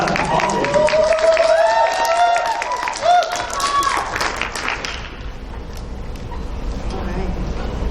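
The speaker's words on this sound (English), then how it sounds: "let's give a round of applause for Ava Carpenter from Leeds Lake Catholic College" Audience at a poetry slam applauds a performer, steady dense clapping and cheering with whoops over the first five seconds, then easing into softer continuing applause.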